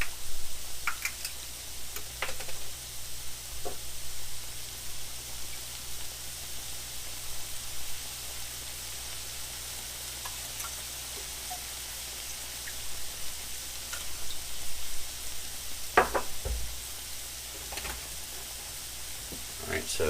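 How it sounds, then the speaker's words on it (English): Eggs and milk cook in a pan for a breakfast casserole, giving a soft, steady sizzle with faint ticks and light scraping as they are stirred, while a person talks quietly over it. "Alright, so there's the milk and eggs, and then again just kind of stir that around a little bit."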